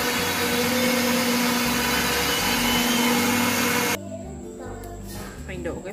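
Blender grinding boiled purple sweet potato together with its cooking water, a loud steady motor roar for about four seconds that cuts off abruptly, followed by quieter kitchen sounds.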